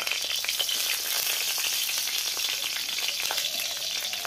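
Garlic and dry chili fry in mustard oil with a dense, steady crackling sizzle that stays close and even from start to finish.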